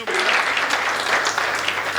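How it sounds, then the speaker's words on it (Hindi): Audience at a Hindi comic poetry gathering gives a loud, steady round of applause, a dense wash of clapping from start to finish. "दिनेश जी के लिए एक बार जरा जोरदार तालियां बजाएं।"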